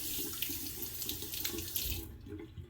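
Water runs steadily from a tap into a sink for a couple of seconds, a close, even splashing rush that cuts off near the end.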